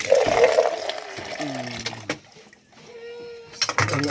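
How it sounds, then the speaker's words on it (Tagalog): Rainwater runs and splashes off a sagging tarp in a steady, close wash, with a voice speaking over parts of the flow. "Kayong nag-agas."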